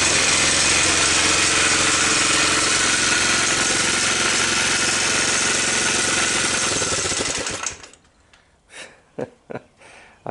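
A Honda TRX250 ATV engine runs steadily after a smoky cold start, a loud continuous mechanical drone that cuts out near the end, leaving a few short bumps and knocks.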